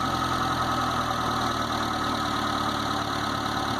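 A Geo Tracker's 1.6-liter four-cylinder engine runs at a steady, even idle, close up and continuous, with no voices.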